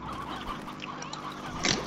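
Roosters clucking in the video game Slime Rancher, a busy cluster of short fowl calls over a steady farm-ambience bed, with one brighter, louder cluck near the end.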